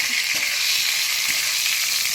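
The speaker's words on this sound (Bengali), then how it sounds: "আর জিরে দিলাম ফোড়নে জিরে আর কাঁচা লঙ্কা ভাজা দিয়ে" Cumin and green chillies sizzling in hot mustard oil in a kadai, a loud, even hiss of frying with faint stirring knocks underneath.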